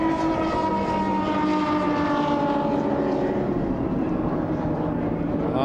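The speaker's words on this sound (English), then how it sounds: "the helicopter chasing it" A helicopter chases a Class 1 offshore racing powerboat at the 1998 Norwegian Grand Prix in Arendal; a loud, steady engine drone with a tonal whine runs throughout, close and unbroken, with no talk.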